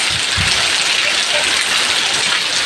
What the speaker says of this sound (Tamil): இன்றைக்கி செம்ம மழை பாருங்கள் இவ்வளோ மழை பெய்யுது பாருங்களேன்